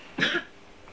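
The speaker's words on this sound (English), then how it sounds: "this guy is coughing" A child's single short cough, fairly faint and close, followed by quiet.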